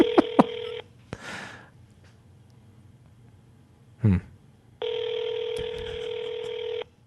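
Telephone handset sounds as an incoming call is sent to voicemail: a few short dialing beeps, a brief electronic burst, then a steady two-toned tone held for about two seconds, close and clear.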